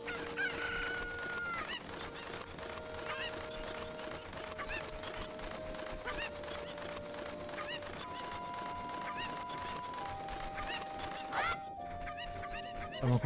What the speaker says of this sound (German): Da ist noch ein Huhn.